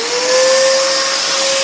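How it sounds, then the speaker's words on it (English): Dust extractor running beside a scroll saw cutting a compound-cut wooden candle, a steady loud whine with a strong tonal hum held throughout, no voices. "Extractor on."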